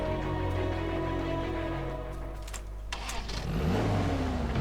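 A car engine in the battle royale game PUBG, a steady loud mid-pitched drone that dips briefly before revving up again near the end, heard alone.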